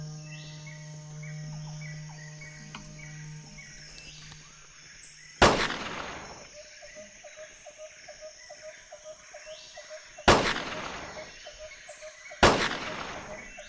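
Three sharp rifle shots in the hunting game Carnivores, spaced several seconds apart with echoing tails, over a bed of chirping insects and ambient jungle noise.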